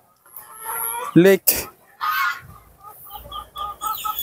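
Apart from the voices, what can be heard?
egg-laying chickens clucking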